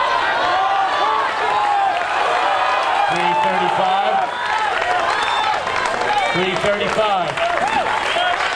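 A high school crowd at a weightlifting lift-a-thon cheers and applauds a 335 lift, sustained clapping and whoops filling the room while an announcer talks over it.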